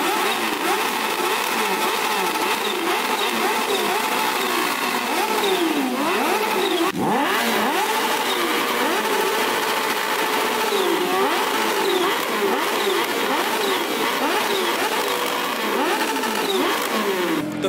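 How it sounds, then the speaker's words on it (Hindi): A BMW motorcycle and a Kawasaki H2 trade throttle blips in a rev battle, loud and close, with repeated rising and falling engine howls running without a break and no talking. "तो यहाँ पे अब चलेगी रेव बैटल BMW प्लस H2 में।"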